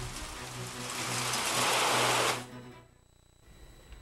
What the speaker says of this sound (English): they had to deal with a downpour